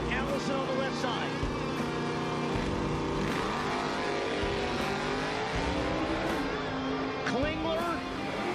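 1985 Camaro drag racing down a racetrack, a loud engine roar revving and pulling away, with an announcer talking over it throughout.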